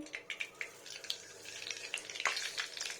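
Panch phoron spices frying in hot mustard oil in a home kitchen, a close, crackling sizzle with rapid irregular pops, quiet and without talk.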